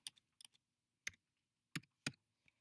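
Sparse, crisp button presses on a calculator tap out in quick clusters with pauses between, close and quiet.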